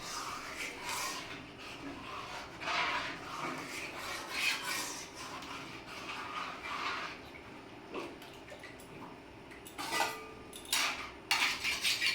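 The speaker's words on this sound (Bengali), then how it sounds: "এই যে দেখুন ডালটা ভালোভাবে নেড়ে চেড়ে নিয়ে নিই" A spoon scrapes and stirs lentil dal with vegetables in a metal pot, producing continuous close rasping strokes and clinks in an uneven rhythm, louder toward the end.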